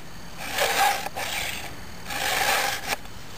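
A file rasps against a chainsaw chain in two slow, gentle strokes, close and fairly quiet, with no talking.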